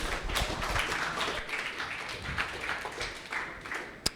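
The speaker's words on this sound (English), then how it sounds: "Everyone give a huge round of applause to Team Sustain City." Audience applause for Team Sustain City, a dense wash of many hands clapping at steady loudness for about four seconds, with a single sharp louder clap near the end.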